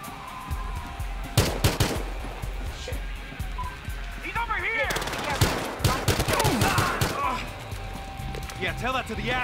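Bursts of automatic gunfire in Battlefield Hardline, loud rattling volleys and sharp shots amid crashes, with characters talking over the shooting.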